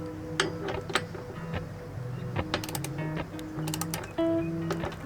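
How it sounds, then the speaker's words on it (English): A ratchet works the nuts off rusted stainless bolts in a sailboat's bilge, giving irregular clicking and ratcheting bursts with metallic clanks, close by, plus some tonal mechanical whirring. "I'm going to go into the bilge now and remove the nuts off these bolts"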